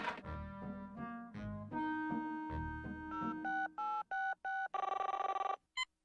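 A cartoon telephone rings in a series of short, bright electronic bursts following descending tonal musical notes, fairly faint, with no voices.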